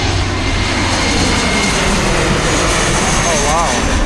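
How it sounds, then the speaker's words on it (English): A fixed-wing airplane roars overhead above a park in Los Angeles, a loud, continuous engine drone that fills the whole stretch without letting up. "there's another plane coming."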